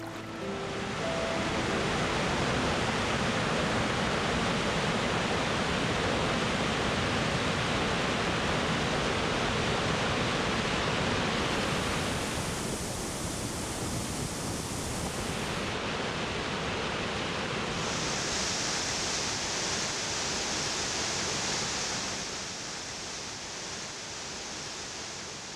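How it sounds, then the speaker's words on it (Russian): Many waterfalls roar across the trap mountains of the Putorana Plateau, a dense, steady rushing of water that fills the whole stretch without pause and eases only slightly toward the end. "Ожили бесчисленные водопады."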